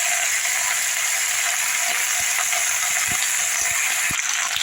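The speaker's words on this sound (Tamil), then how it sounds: "இப்போது தூதுவளை கீரை எடுத்து இதில் போட்டுப்போம். லேசாக வதக்கிடலாம்." Thuthuvalai greens sauté in hot oil with pepper and cumin, giving a loud, steady, close sizzle that hisses without a break, with small crackles and pops scattered through it.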